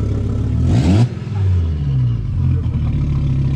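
An Audi RS3 engine swap with a hybrid turbo revs up in a short, loud burst, then settles into a throaty, burbling drone nearby.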